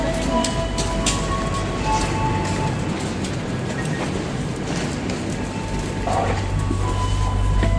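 Riding inside the Sangkuriang passenger train, a steady, loud broadband rumble and rattle of the moving carriage continues throughout, with a low hum rising near the end and no speech.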